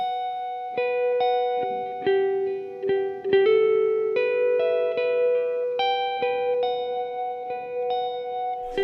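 Electric guitar played through a Hotone Skyline Verb reverb pedal, a run of picked notes and chords that ring on in a lush, sustained wash of reverb, loud and close with no talking.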